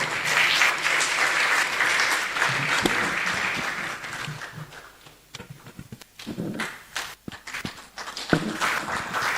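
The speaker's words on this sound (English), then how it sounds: "A round of applause we do, please." An audience at a STEM conference claps for student problem-solving presentations, a loud burst of applause that thins into scattered claps and taps before swelling again.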